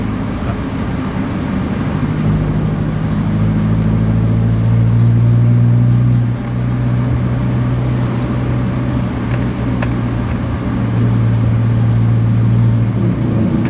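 A tuned 1.9-litre drag car engine held at full throttle gives a loud, continuous, droning roar that stays close and steady throughout, with slight swells in pitch and no voices over it.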